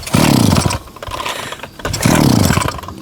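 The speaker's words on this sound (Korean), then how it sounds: "시동 걸 때는 반드시 한 손으로 작업대를 잡고 한 발로 하우징을 밟고 힘차게." A brush cutter's small two-stroke engine pulled hard by its starter cord twice, each loud raspy sputter of about half a second cranking close by without catching, separated by a brief quieter pause.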